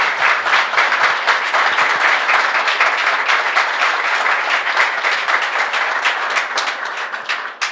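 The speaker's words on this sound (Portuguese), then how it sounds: "Um aplauso forte para o maestro docente" Audience bursts into strong applause for a teacher-conductor at a children's song event, a thick, sustained wall of many hands clapping that carries on for nearly eight seconds.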